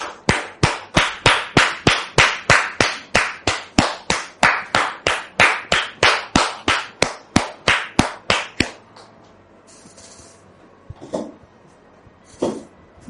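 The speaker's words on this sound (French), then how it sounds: "sous vos applaudissements" Steady rhythmic clapping from a studio audience, about two dozen sharp, evenly spaced claps at a brisk pace that stop abruptly, followed by quiet room sounds and a few faint knocks.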